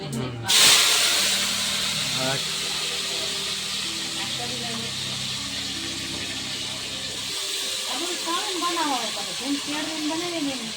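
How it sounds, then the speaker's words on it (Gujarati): Sliced bananas frying in hot oil, a steady close hiss and sizzle running throughout with bubbling crackle, while people talk nearby. "કેળા તળાય છે"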